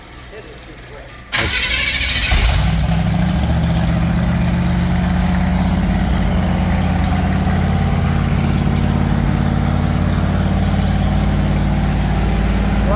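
A Bombardier engine cranks and catches, then settles into a fast, steady idle with the choke on. The rumble is loud, close and continuous throughout.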